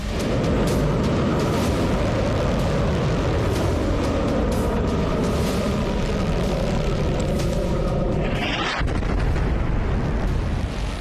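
A continuous loud roaring rumble, like a missile launch or heavy blast, fills the whole stretch, dense and unbroken with a rising whoosh near the end, as described for the Iranian IRGC missile strikes.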